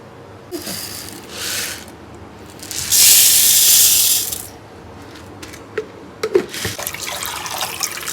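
Lentils being washed in water: bursts of pouring and running water, a longer gush in the middle, then small splashes, clinks and swishing as the grains are rinsed by hand, close up.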